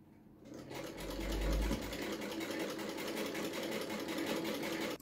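A sewing machine stitching pin tucks on Victorian-style long bloomers runs steadily and up close with a fast, even mechanical whir that barely changes for the whole stretch.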